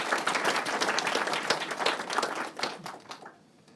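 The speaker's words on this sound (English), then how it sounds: "let's give Jason a round of applause and welcome him to the stage" A lecture audience applauds steadily as a speaker takes the stage, dense clapping that holds for about three seconds and then thins out and fades.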